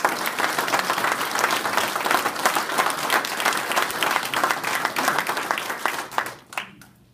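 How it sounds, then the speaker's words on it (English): Sustained applause from an audience at a media conference announcing a land gift, steady and dense for about six seconds before tapering off into quiet. "we owe them a big round of applause"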